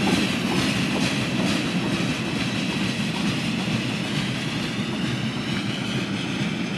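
A train passes on the PRR Octoraro Secondary rail line as a loud, steady, close rumble with a broad wash of wheel and rail noise that holds unbroken throughout.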